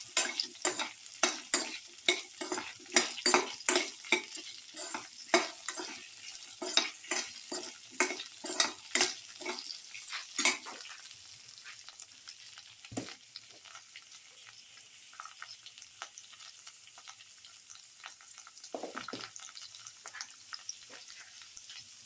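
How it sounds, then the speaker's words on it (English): A spatula scraping and stirring garlic, okra and tomato in a sizzling pan, with rhythmic strokes for about ten seconds before settling into quieter frying with occasional stirs. "Thoroughly saute mix."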